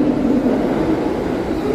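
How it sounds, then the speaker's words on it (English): Subway train on a snowy day at 42nd Street in New York, a loud steady low rumble and roar that fills the whole clip without talk. "All right, see, train's coming."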